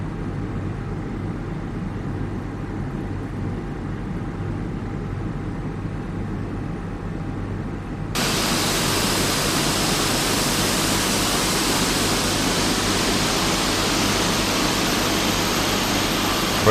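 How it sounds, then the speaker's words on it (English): An Airbus A320 jet engine in Microsoft Flight Simulator 2020 spools up from a low steady rumble to a louder, brighter broadband roar that jumps abruptly partway through and then holds steady. "We can start our engines now."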